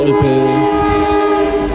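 Malioboro Express train arriving at an Indonesian station, sounding a loud sustained horn chord with strong tonal layers, joined by rumbling wheels and engine noise close by.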